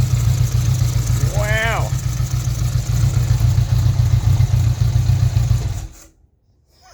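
A Honda Goldwing engine fitted to a go-kart turns over for the first time, giving a steady loud low clattering engine run that cuts off abruptly near the end. Someone briefly exclaims partway through.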